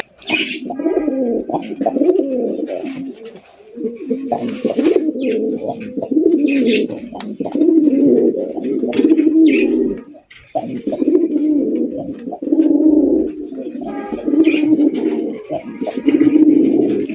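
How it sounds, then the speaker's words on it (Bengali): A male fancy pigeon coos close by, repeating deep, throaty rolling calls in steady bursts with brief pauses between them, loud and alone apart from faint chirps. "আর নরটা যে ডাকে ভাই, একদম পুরো পাগলা টাইপের একটা নর।"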